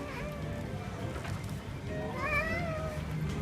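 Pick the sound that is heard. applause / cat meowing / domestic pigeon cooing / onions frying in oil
cat meowing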